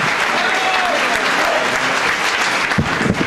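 Dense audience applause for Claudio Borghi and Matteo Salvini at a Basta Euro tour event in Buja, steady and loud throughout, with a few louder claps and voices near the end.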